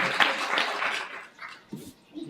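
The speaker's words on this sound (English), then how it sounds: "I really need a louder applause" Audience applause at an International Women's Day celebration, a moderately loud wash of clapping that fades after about a second and a half, followed by a voice beginning to speak.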